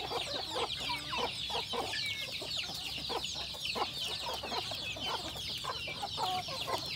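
Chickens cluck busily while eating greens in a free-range flock, a dense chatter of many short overlapping calls that stays close and steady throughout, with no talk.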